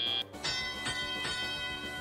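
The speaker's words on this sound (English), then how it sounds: "There's the bell." A bell rings at a 2018 FIRST robotics regional quarterfinal match to mark the end of the autonomous period, sounding several evenly spaced metallic strikes over arena noise.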